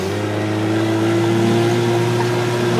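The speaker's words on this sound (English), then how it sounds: "That's a badass motor." Evinrude outboard motor, worn and battered but still running, holds a steady loud mid-pitched drone with a strong low hum and slight revving swell throughout, no voices over it.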